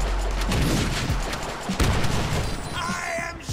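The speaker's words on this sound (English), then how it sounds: "I am shooting you!" Gunfire rattles in the Deadpool video game, dense bursts of shots cracking over a loud battle din, with someone shouting over it.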